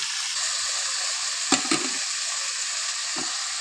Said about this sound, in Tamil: நல்லா சுண்டி வதங்கிடுச்சு குடமிளகா